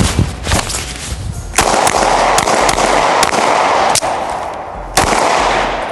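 Firework shots launching outdoors, a series of sharp loud bangs and cracks over a dense crackling, rumbling barrage that runs through the whole stretch.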